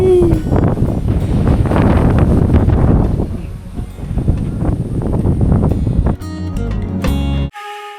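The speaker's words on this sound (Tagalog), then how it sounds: "At habang nagliligpit kami ng tent, ay biglang lumakas ang hangin." Strong mountain wind gusts steadily into the microphone as a tent is packed up at a campsite on a Tagaytay peak, a continuous roaring buffet that cuts off abruptly near the end.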